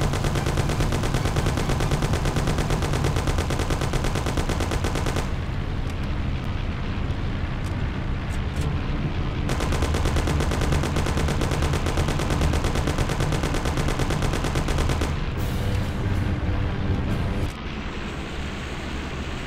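Heavy, continuous gunfire in the Mafia video game, sustained rapid shots and automatic bursts dominating throughout with brief lulls, loud and close.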